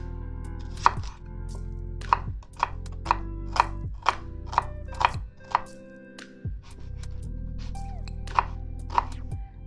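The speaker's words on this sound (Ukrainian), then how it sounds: "Отже, нарізаємо цибульку." A knife chops an onion on a cutting board with a steady series of sharp, close thunks, pausing briefly midway before the rhythmic cuts resume.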